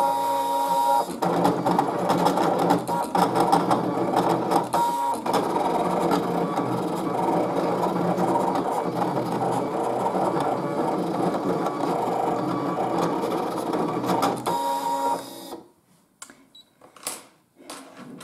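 A Brother ScanNCut CM900 cutting machine running through a cut, a steady mechanical whir with rhythmic rasping and clicking for about fifteen seconds before stopping, followed by a few faint clicks.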